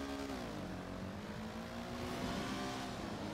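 Four-stroke motorbike engine in GTA 5, a steady droning hum with rising harmonic lines, sustained and fairly loud throughout without pause.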